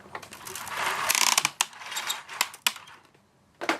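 A toy Batmobile rattles with a loose piece inside, giving a burst of close, dry clicking and ratcheting, then scattered sharp clacks and taps with brief pauses between them.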